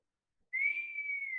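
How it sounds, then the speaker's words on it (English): A single loud, sustained human whistle that starts abruptly and holds a steady high pitch with a slight droop, clear and close with nothing else around it. "I can whistle real loud."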